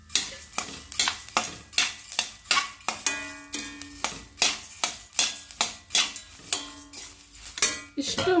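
Coriander seeds roasting in a pan, stirred with a utensil that scrapes and clinks against the metal in a steady rhythm of about two strokes per second, close and clear, with faint sizzling beneath.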